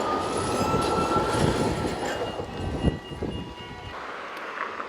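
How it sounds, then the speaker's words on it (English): A train rolls past on street-level tracks in the Netherlands between Veendam and Rotterdam, a loud close rumble with wheel noise and faint squeal that fades toward the end, no talk. "And these trains are coming by constantly."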